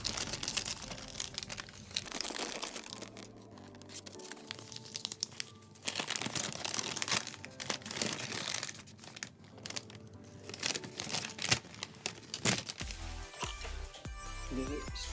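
Paper inserts from a budget JBL C100SI earphone box, a user manual and warranty cards, crinkle and rustle as they are handled, with steady close crumpling and tearing-like sounds throughout and faint talk at times.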